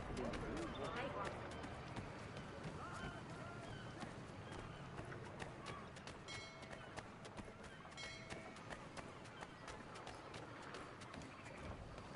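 Horse hooves clip-clop in a video game, a quick, running rhythm of sharp hoofbeats throughout, with voices talking over them.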